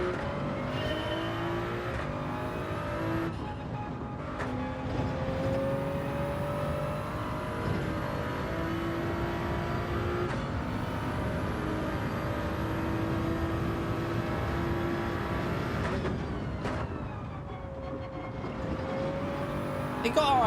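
A Toyota Supra in Gran Turismo 7 during a time trial: a continuous engine drone rising and falling through revs and gear shifts, steady and fairly loud, with a voice talking over it at times.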